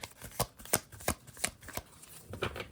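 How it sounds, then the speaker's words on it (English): A tarot card deck being shuffled by hand, with a series of crisp riffling bursts at an uneven rhythm, close and fairly quiet, with no voices. "It's very easy to shuffle."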